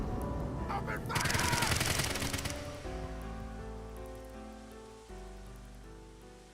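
Rapid automatic gunfire erupts in AI: The Somnium Files, a dense loud burst of shots lasting about two seconds, followed by ringing tonal music and sound effects.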